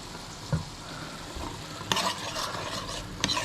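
Double cream being stirred into a seabass pan sauce, a faint steady simmer with a few soft scrapes of the spoon against the pan.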